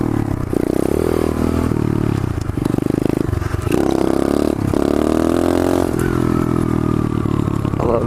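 Pit bike engine revving hard and steadily through third-gear wheelies, a loud, continuous buzzing roar with brief dips and surges as the throttle changes, alone with no talk.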